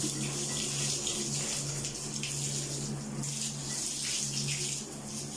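Steady broadband rush of water from a tap or hose soaking a Siberian husky's coat during a bath, continuous and fairly close with a low hum beneath.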